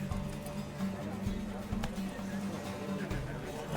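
Hooves of a horse galloping in a race in The Witcher 3, a steady run of clip-clop beats under game music and other sound, with some talk mixed in.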